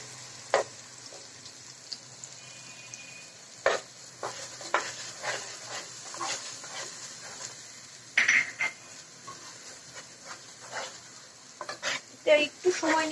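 Duck meat being stir-fried for a Bengali duck curry, with onion paste and spices in the pan, gives a soft, close sizzle under irregular scraping and clattering spatula strokes against the pot.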